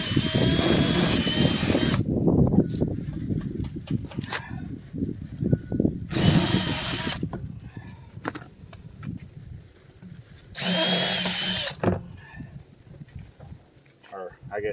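A power drill drives screws into a septic tank riser lid in three close, loud whirring bursts of about a second each, separated by quieter handling sounds and a voice talking.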